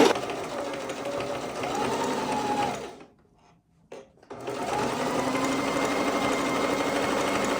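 A sewing machine stitches a fabric bow pillow, a loud, close, steady mechanical whir that stops for about a second midway and then resumes at the same even pace.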